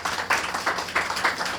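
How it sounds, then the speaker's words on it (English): Scattered audience applause for event volunteers at a library's 125th anniversary celebration, a modest crowd clapping steadily in a room, with slight pulsing swells throughout. "So, big applause to them."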